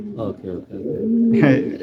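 Pigeons coo in a few low, throaty pulses close by, followed by a louder burst of cooing near the end.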